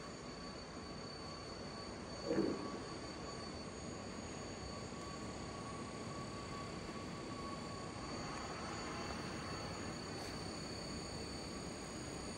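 A 2006 Litz-Hitech SV-1000A vertical machining center runs a basic program moving all its axes, giving a faint, steady mechanical hum and whine with a brief clunk early on, no talking.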